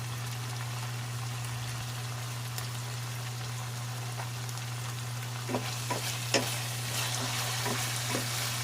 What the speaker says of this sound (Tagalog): Lutuin pa natin saglit yung ating bagoong alamang. Mas masarap pag lutong-luto.